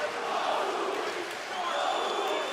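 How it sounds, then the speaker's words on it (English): A live fight crowd in Portland chants and cheers to rally fighter Barnaoui, a steady roar of many voices in a large arena, with a commentator talking over it. "Crowd are trying to get Barnaoui going here, trying to encourage him"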